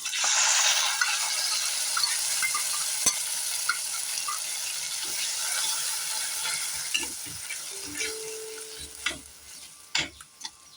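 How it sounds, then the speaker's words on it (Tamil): Ground tomato and onion paste sautéing in a pan for a cauliflower (gobi) masala gravy, with a steady loud sizzle that slowly settles and a few scraping stir clicks and knocks toward the end. "இதிலே நம்ம தக்காளி வெங்காயம் அரைச்சி வச்சுருக்கோம் இல்லையா, வதக்கி அதை விட்டுறலாம்."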